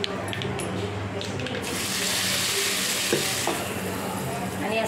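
Hot oil tempered with mustard seeds hits chutney and bursts into a loud, close sizzle partway through, hissing steadily afterward with a few clinks of utensils.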